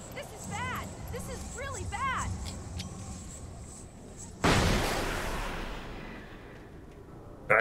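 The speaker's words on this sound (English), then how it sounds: "I threw a flashbang and he happened to run straight into it." A flashbang grenade goes off in Alan Wake Remastered, a sudden loud blast that fades into a long decaying rumble after earlier chirpy game effects, with a voice speaking over the gameplay.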